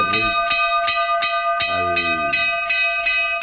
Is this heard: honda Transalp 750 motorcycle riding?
no